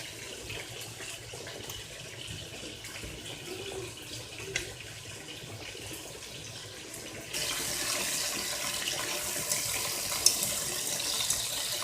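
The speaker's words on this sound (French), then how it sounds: "Pendant ce temps, je lave mes riz." Rice is rinsed under running tap water in a sink while cooking lamb tiep blanc, a steady hiss of flowing water that grows louder and brighter partway through, with no talk.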